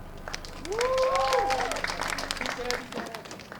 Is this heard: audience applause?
yes